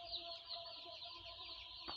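Chickens clucking softly inside a poultry shed during morning care, faint scattered calls close by with a brief knock near the end, no talk.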